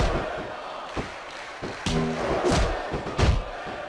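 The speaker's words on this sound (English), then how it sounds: "Listen to the crowd, JR." A crowd roars and chants in a wrestling arena in the WWE SmackDown vs Raw 2006 video game, a loud, sustained swell with rhythmic surges and occasional thumps.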